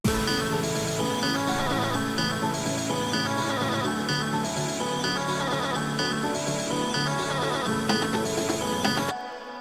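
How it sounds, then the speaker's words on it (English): A chopped vocal melody in an amateur electronic production: short pitched vocal snippets repeating in a steady rhythmic pattern over a dense full mix, ending abruptly near the close. "So I made like this vocal chop melody,"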